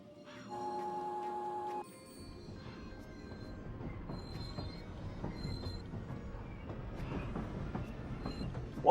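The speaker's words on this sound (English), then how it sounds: "let's talk to the conductor and let's get on the train." Train rolling along in Paper Mario: The Thousand-Year Door, a faint low rumble of wheels with soft clacking and light squeals building gradually, after a short musical game tone at the start.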